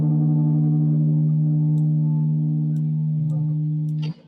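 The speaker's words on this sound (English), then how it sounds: "I want to add some chorus to make it a bit more full sounding." Guitar melody sample with a chorus effect added in FL Studio, sustained layered tones ringing steadily and loudly, with a few faint ticks and a brief transient before it fades at the close.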